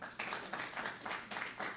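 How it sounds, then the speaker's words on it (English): A room audience applauds William Lightfoot at an awards and fundraiser event, a short burst of clapping that swells in several rhythmic waves, fairly close and steady, with no one speaking over it. "let's give him a round of applause"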